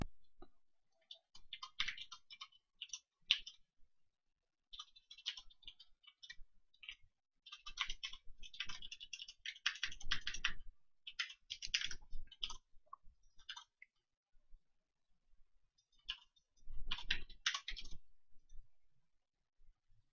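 Keys on a computer keyboard clatter in rapid bursts while JavaScript code is typed for a Perlin noise canvas sketch, with pauses between flurries of fast, light clicking.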